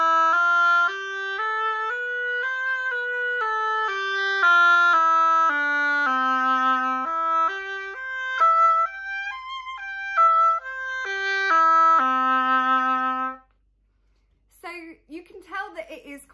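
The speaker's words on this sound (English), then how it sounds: "when we blow down it with the reed in, we get a noise that is more common to the oboe" An oboe played with its reed in place sounds a clear, reedy melody of sustained notes for about thirteen seconds, rising and falling, then stops into near silence with a brief faint rustle at the end.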